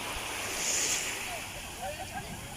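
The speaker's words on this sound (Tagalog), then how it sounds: "At sobrang nakaka-relax po yung mga alon ng tubig na makikita po dito" Sea waves at a beach resort in Ternate, Cavite, Philippines, a soft continuous wash of surf mixed with wind noise on the microphone, with faint distant voice-like sounds.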